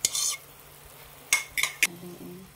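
A spoon stirring a boiling egg soup in a pot, with a few separate scraping clinks against the metal and a soft bubbling simmer in between.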